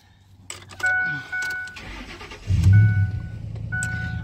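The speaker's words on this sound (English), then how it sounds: "We'll go ahead and crank it up. Let you hear the engine." A 2006 Ford F-150 XLT pickup with a 5.4 L Triton engine cranks with a few whirring starter bursts, then catches and settles into a loud, steady idle close by.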